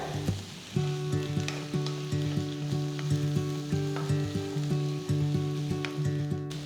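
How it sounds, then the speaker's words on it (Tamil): Broccoli sizzles and crackles steadily in a hot pan while a utensil scrapes and clinks in a repeating stirring rhythm, close and without any talk. "ப்ராக்லி சேர்த்து மூணு நிமிஷத்துக்கு நல்லா வதக்குங்க"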